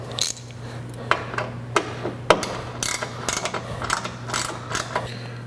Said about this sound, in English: we're going to start on the outsides and start tightening these button head bolts up